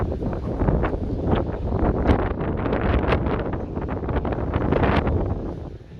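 Strong, gusty wind roars across a beach in Corralejo, Fuerteventura, hitting the microphone in loud, continuous buffeting blasts with sharper swells throughout, and no voices.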